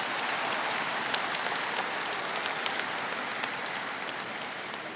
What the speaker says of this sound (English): Students, thank your parents, please. That would be a round of applause,